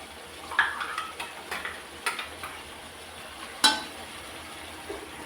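Garam masala and cashew paste are stirred into a mutton and cauliflower curry in a pan, with a soft background sizzle and a series of scraping spoon strokes, one sharper knock standing out near the middle.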